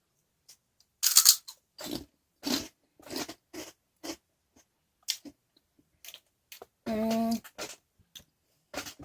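Someone bites into crunchy onion ring snacks. Crisp, separate crunches and chewing bursts come close to the mic in an irregular rhythm, with quiet pauses between them and a brief hummed voice near the end.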